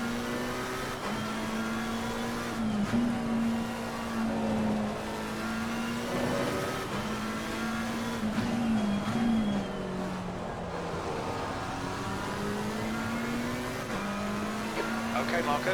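Race cars battle for position in Assetto Corsa Competizione at Snetterton, with a steady, loud engine drone that rises and falls as the cars rev through gear changes, and a voice talking over it.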